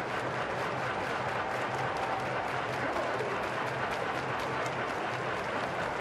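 A baseball crowd at a Twins home game claps and cheers for a good play, a steady wash of applause filling the whole stretch with no distinct voices on top.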